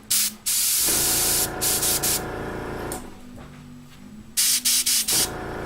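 Paint spray gun hissing at about 10 psi in several bursts, a long steady spray then shorter pulses of airy hiss, close by with a low background hum.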